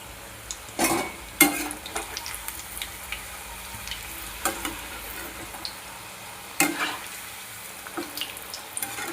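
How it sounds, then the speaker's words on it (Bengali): Papdi fry in oil on low heat with a continuous gentle sizzle, broken by several louder bursts of crackling and hissing as pieces are dropped in and moved. "আপনারা হালকা আঁচে ভালো করে ভেজে নেবেন"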